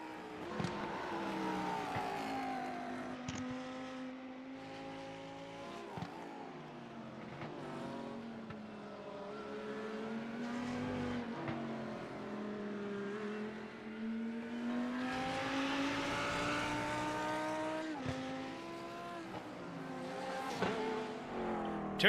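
GT3 race cars, among them the number 28 Lamborghini, circle the Interlagos circuit in a sim race. Engines drone steadily with rising and falling revs and shifting harmonics for the whole stretch, sustained and fairly loud, with no talk over it.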